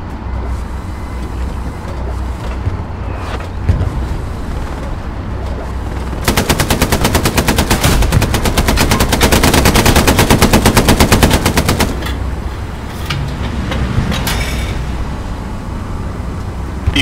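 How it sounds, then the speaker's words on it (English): Automatic machine gun fire in the World War II shooter Hell Let Loose, a long dense burst of rapid loud shots lasting several seconds, rising out of ambient battlefield rumble and then stopping, with no talk. "To our left is a machine gunner."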